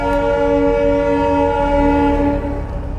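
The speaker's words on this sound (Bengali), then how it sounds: "হর্নটা কিন্তু দারুণ।" A passing train sounds its horn in a loud, sustained multi-tone blast lasting the whole stretch, with a low rumble of rail traffic underneath that grows slightly rougher near the end.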